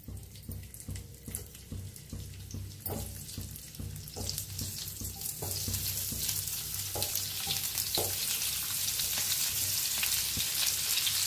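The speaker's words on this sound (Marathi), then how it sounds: "आता तेल गरम झाले. कारली सोडून घेऊया तेलात." Pieces of bitter gourd dropped into hot oil in a pan on a gas stove, with a few soft clinks giving way to a loud, steady sizzle that keeps building.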